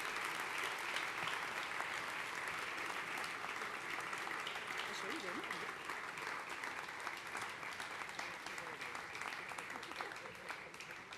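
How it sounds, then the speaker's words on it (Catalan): An audience applauding at an awards gala as a prize is presented, a fairly quiet but continuous crowd clapping that runs steadily for the whole stretch, with faint voices beneath it. "Un aplaudiment, sí,"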